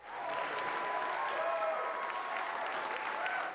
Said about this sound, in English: surrounded by cheering legislative Democrats and union leaders that had worked on the campaign